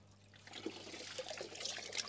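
A basic filter sponge is rinsed out in pond water from a koi pond, giving soft sloshing and dripping splashes with a few brief louder spurts, close and quiet.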